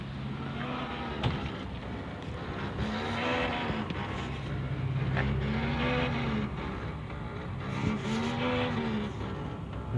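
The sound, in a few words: GAZelle headlight buzzing and crackling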